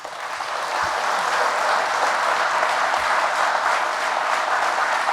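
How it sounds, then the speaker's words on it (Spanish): A church congregation at a Catholic Mass breaks into loud, steady applause, a dense and even wash of many hands clapping together that continues with no voices over it. "Fuertes aplausos a Jesús."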